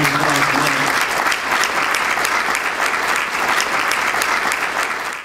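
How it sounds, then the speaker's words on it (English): A large audience gives Mike a sustained round of applause at an awards event, loud, dense clapping holding steady for about five seconds before easing slightly at the end. "how about a round of applause for Mike?"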